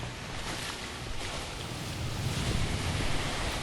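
Open-sea waves wash steadily around a sailing vessel in an Xbox Live indie game, with a constant rushing surf and wind noise that builds slightly toward the end, and no voices.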